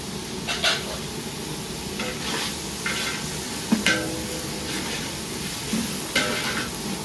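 Fresh coriander is stirred into bagara rice frying in a large pot, a steady close sizzle broken by several scraping stirs and soft clanks of the ladle against the metal, with no talking.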